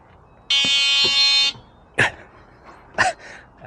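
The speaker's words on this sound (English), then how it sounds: "bonked the horn. It's a little buzzer." Electric horn buzzer on a Ride1up DRT 20-inch fat tire bike sounds one loud, steady harmonic buzz of about a second, followed by a couple of short bumps and knocks.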